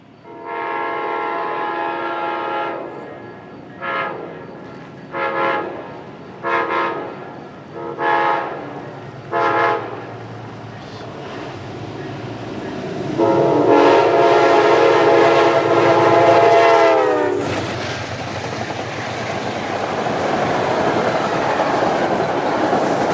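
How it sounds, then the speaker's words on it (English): A Conrail Heritage unit freight train blasts through on the Hudson Line, sounding a series of five or six short, loud horn blasts, then a long sustained horn note as it passes close amid rumbling wheels. "the Conrail Heritage unit blasted through again, laying on the horn"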